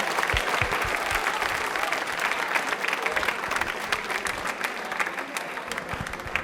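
Studio audience on a Rajasthani TV quiz show breaks into loud, sustained applause, a steady dense clatter of many hands that holds at an even level for several seconds with no voices above it.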